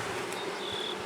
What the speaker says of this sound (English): let's dump all these bees in there though.